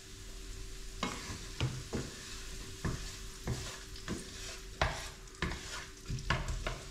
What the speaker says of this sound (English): I'm just going to fry that onions off a little bit.